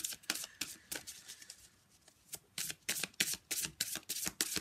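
Oracle cards from an angel love deck are shuffled and drawn by hand, a run of quick, crisp papery riffles and flicks in clustered bursts, close and fairly quiet, with a short lull in the middle.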